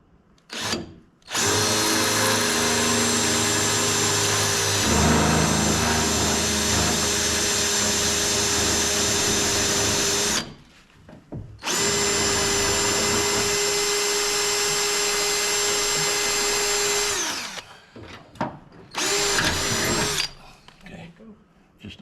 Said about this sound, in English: if I drill it and then tap it